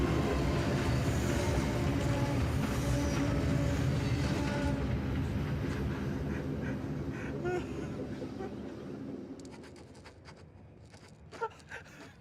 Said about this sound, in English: when the train came close, it aggressively vibrated my controller